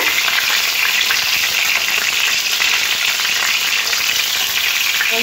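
Pieces of pointed gourd (potol) fry in hot oil for a masala curry with a loud, even, close-up sizzle that keeps crackling without a break, and no voices can be heard.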